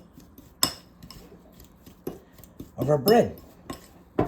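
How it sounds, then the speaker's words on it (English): A spoon clinks and scrapes against a bowl while cinnamon bread filling with melted butter is mixed, in a few sharp taps and a busier stretch of stirring, with a person talking briefly. "we're just going to mix this all together"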